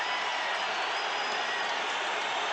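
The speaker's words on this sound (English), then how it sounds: "the crowd reacting here" Loud, dense roar of a hockey arena crowd at a 1988 Red Wings–Blackhawks game, reacting to a fight on the ice, a continuous wash of cheering and noise with no pauses.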